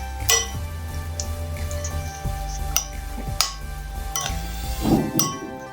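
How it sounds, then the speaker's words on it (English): Spoon clinking against a bowl while tossing a salad of pasta, prawns and colourful vegetables, irregular close metallic taps and scrapes spaced a second or so apart, with no speech. "Now I'm going to get a clean spoon and mix it all up"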